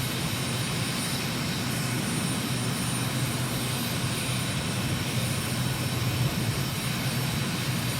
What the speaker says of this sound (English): giving you a few moments of unadulterated jet engine noise